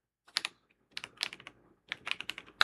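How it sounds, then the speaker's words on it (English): Typing on a computer keyboard during programming, with three short bursts of crisp, close key clicks separated by brief pauses and no voices. "I'm still getting used to this keyboard."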